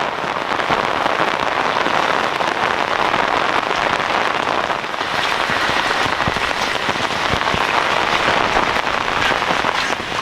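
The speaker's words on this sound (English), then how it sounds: "the rain's really starting to come down right here" Heavy rain pours steadily over a decades-old backyard garden with a persimmon tree, a dense continuous hiss with scattered closer drops pattering on leaves and surfaces throughout.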